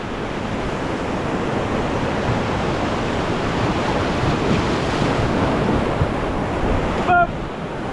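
Rushing white water on the Truckee River roars loud and continuous during a rafting run, a dense steady wash of churning rapids close by with a brief squeaky sound near the end.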